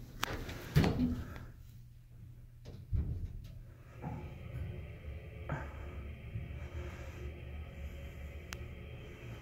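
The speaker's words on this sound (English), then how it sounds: "Instant door close." The door of a 1988 Otis Series 1 hydraulic elevator closes with a couple of clunks and thumps, then a steady low hum and hiss from the machinery.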